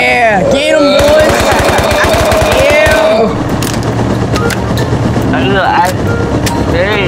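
Rapid machine gun bursts ring out in a flying combat video game, a loud rattling stream followed by engine drone and more shots, with excited voices shouting over the action.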